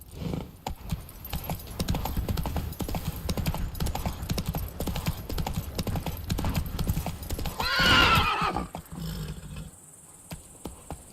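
Roach the horse gallops in The Witcher 3, steady hoofbeats clip-clopping over ambient insect chirps, with a loud whinny near the end before the galloping fades.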